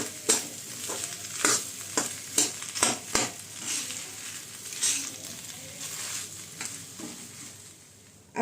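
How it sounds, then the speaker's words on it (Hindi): Spiced potato samosa filling is stirred in a pan over a low flame, with repeated close scraping strokes of the spoon over a soft, steady sizzle and no talking. "लो फ्लेम पे ही मिलाइए, हाई फ्लेम पे मत मिलाइए।"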